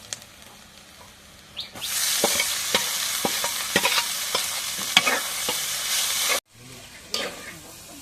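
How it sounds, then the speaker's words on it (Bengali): Leafy greens hit a pan of frying onion, garlic and green chili, bursting into a loud, steady sizzle with scattered crackles and stirring clatter, then dropping sharply before a quieter sizzle resumes. "এখন পেঁয়াজ রসুন কাঁচামরিচ ভাজা হয়ে গেছে, এখন শাকটা দিয়ে দিই।"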